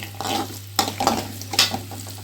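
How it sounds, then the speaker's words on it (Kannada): Tempering for raw mango chitranna sizzles softly in a pan, with a spoon scraping and stirring in a few distinct strokes over a faint steady hum. "ಈಗ ಒಗ್ಗರಣೆ ಆಗೈತಿ."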